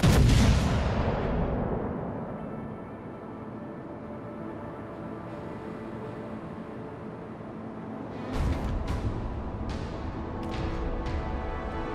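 Warship guns fire in World of Warships: Legends: a loud, close booming salvo that rolls off into a long rumbling decay, then a second heavy blast later with a few sharp cracks after it, all without talk.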